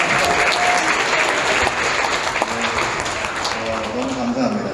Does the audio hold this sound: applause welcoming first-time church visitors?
yes